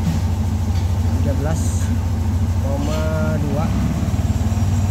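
Yamaha All New NMAX scooter with a recurring fault code idles steadily close by in a workshop, a low even engine drone running throughout while someone talks over it.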